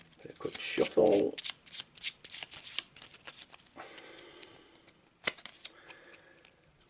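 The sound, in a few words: shuffling a deck of cards for a board game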